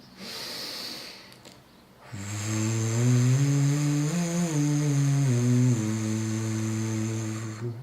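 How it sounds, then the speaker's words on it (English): Slow, steady belly breathing for singing practice: one short breathy sound, a pause, then a long sustained exhale lasting several seconds, close and fairly quiet. "belly breathing."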